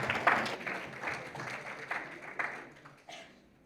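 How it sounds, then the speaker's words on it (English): Audience applause for a group of Barron Scholars at a college event, a steady patter of many hands clapping close by, fading toward the end. "a round of applause for our Barron Scholars"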